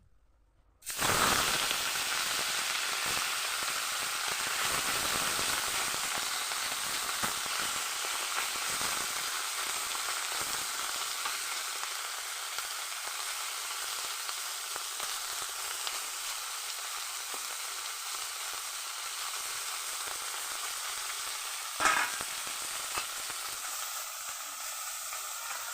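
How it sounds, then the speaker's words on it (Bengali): Fish sizzling in hot oil in a pan for home cooking, a loud steady frying hiss that starts abruptly and holds evenly throughout, with one brief sharper crackle near the end and no talking. "এবার আমাদের মাছগুলো ভেজে নিই।"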